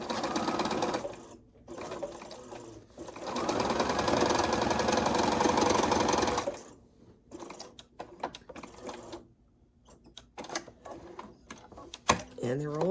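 A sewing machine stitches pairs of quilt blocks in long, steady, rapid runs, stopping and starting, with soft handling noises in the pauses.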